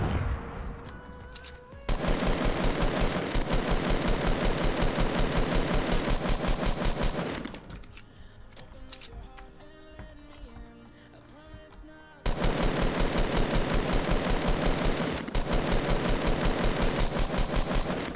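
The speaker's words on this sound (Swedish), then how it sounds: "När jag har chansen så missar jag alla skott istället." Rapid automatic gunfire from a Fortnite match rattles loudly in two long sustained bursts, separated by a quieter stretch of scattered shots and game noise, with no talk.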